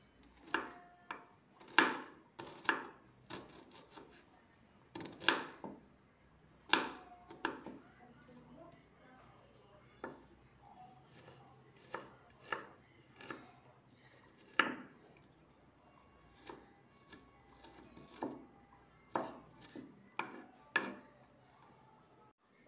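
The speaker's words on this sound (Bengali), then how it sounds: "এইভাবে বাকি পেঁয়াজকেও কেটে নেব।" A knife chops onion into small pieces on a board, sharp, fairly close knocks coming in uneven bursts with short pauses, spread across a quiet kitchen.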